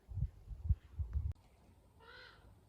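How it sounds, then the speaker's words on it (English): A raven calling outdoors at a summer lake camp in Ställdalen, one harsh croaking call at a distance, faint, after some low thumping handling noises. "Do you hear that guy? That's the Raven"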